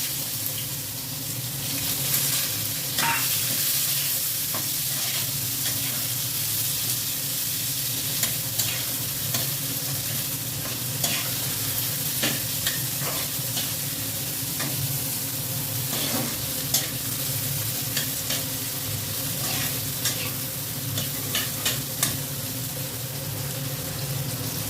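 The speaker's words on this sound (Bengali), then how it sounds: "পেঁয়াজটা ভাজা ভাজা হয়ে গেছে।" Chopped onion frying in oil with cinnamon and cumin in a pan, a loud steady sizzle with frequent stirring clicks and scrapes throughout, no voices.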